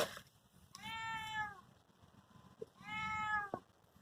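A cat hidden among bricks in a village in Assam, India, gives two clear meows, each about a second long, with a pause between them over a faint background rumble.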